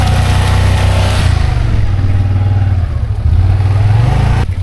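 A Can-Am Outlander XMR 850 ATV on Aztex tires accelerates nearby with a loud, continuous engine drone that rises and shifts in pitch as it pulls hard.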